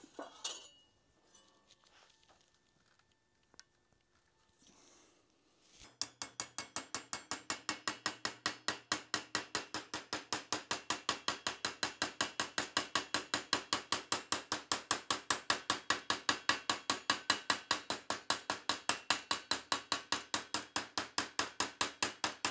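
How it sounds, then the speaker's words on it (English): Metal is bent in a vise with a long, steady run of sharp, evenly spaced metallic strikes, several per second, after a few seconds of quiet handling noises. "So I'm just gonna bend it on the vise."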